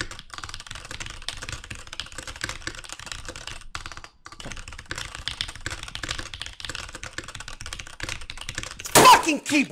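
Rapid computer keyboard typing during a TypeRacer race, a dense clatter of keystrokes that runs almost nonstop, close and fairly loud, with a short pause around the middle and a sharp burst near the end.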